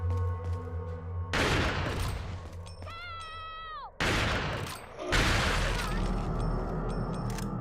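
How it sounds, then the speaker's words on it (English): Shotgun blasts go off in Resident Evil 4, loud booming shots separated by pauses. A rising, wavering tone sounds between the blasts, and some game noise runs underneath. "But I will start using some shotgun anyway."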